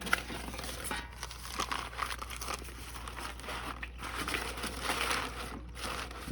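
Paper is crumpled and stuffed into a charcoal chimney starter, here an empty Kingsford charcoal bag. The soft, close crinkling and rustling continues quietly throughout, with no speech.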